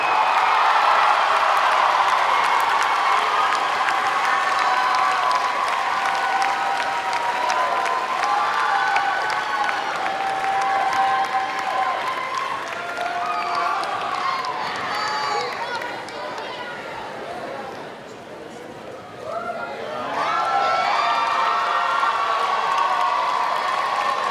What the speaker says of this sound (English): How about one big round of applause for the class of 2016?